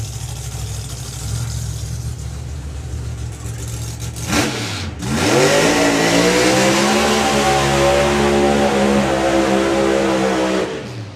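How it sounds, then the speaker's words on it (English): A drag racing car at Santa Pod Raceway holds a high-RPM burnout, the engine idling before a sharp blip and brief dip, then surging into a loud, sustained screaming roar that holds steady for several seconds before cutting off. "I know Andy does burnouts at that RPM for a reason, but it don't half sound like it stretches the rods"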